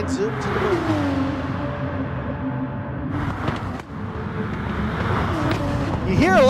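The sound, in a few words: race car exhaust popping in Gran Turismo video game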